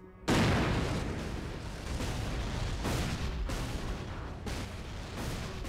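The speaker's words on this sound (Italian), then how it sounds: "Ecco, classica scena, esplosione" A video game explosion in Syphon Filter: Dark Mirror bursts in loudly and abruptly, then rumbles on as a dense, sustained roar with further rolling booms and crackle.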